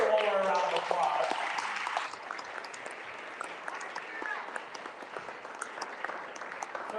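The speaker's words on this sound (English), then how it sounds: "Can we give her one more round of applause?" An audience at an evening lecture event bursts into a sustained round of applause, starting loud under a speaker's voice and tapering to steady clapping that continues alone for several seconds.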